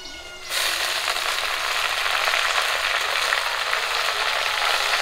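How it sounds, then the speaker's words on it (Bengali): Washed kalmi greens (water spinach) drop into hot mustard oil with browned chopped onions in a rural kitchen, setting off a loud, steady sizzle that jumps up after a brief quieter moment and holds. "ধুয়ে রাখা শাক দিয়ে দিচ্ছি"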